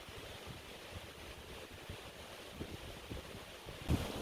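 Water spills over the edge of the partially frozen Bad Urach waterfall in winter, heard as a steady, broad rushing roar with some wind noise, no voices.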